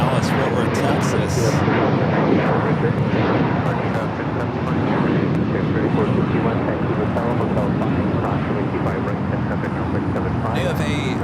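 A China Airlines cargo jet bound for Taipei thunders at Los Angeles International, its engines giving a sustained, loud, broadband roar that barely fluctuates over several seconds.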